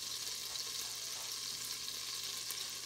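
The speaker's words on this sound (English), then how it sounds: "Hear that sizzle?" Chopped carrot, celery and onion sizzle steadily in a hot pan, a constant bright crackling hiss close up with no voices.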